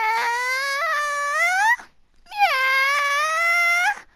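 A human voice imitates a cat with two long, drawn-out meows, each rising and wavering, separated by a short pause.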